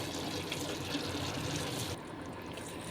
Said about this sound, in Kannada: ಎಷ್ಟು ಬೇಕೋ ಅಷ್ಟು ನೀರು ನೋಡಿ ಹಾಕ್ಕೋಬೇಕು